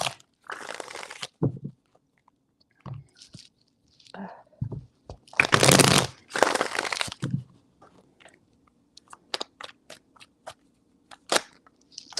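Tarot cards shuffled by hand in short bursts of crisp riffling and rubbing, separated by quiet gaps, with a longer louder shuffle near the middle and scattered faint taps toward the end.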